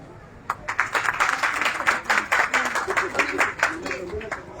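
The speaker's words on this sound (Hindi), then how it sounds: "आपकी जोरदार तालियों के बीच इनका अभिनंदन" Audience clapping welcomes a guest at a ceremony in Khagaria, a burst of loose, uneven applause from a crowd that carries on steadily, with an announcer's voice over it.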